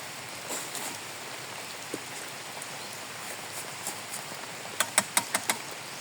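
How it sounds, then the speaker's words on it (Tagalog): Faint, steady rain falls on a farm, a soft hiss with a few sharper drips and taps clustered near the end. "Ulan dito mga idol. Maulan."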